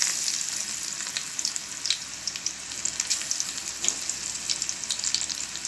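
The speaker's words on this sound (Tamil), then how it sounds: "பக்கோடா மாதிரி போட்டு பொரிச்சு காட்டுறேன்." Oil sizzles and crackles steadily as lentil batter, pakoda-style fritters, deep fry, with a dense hiss and scattered pops throughout and no voices.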